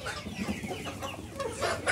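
Hens clucking on a small backyard poultry farm where ducks and chickens are kept, several birds making soft, scattered clucks close by over a steady farmyard background, with no one speaking.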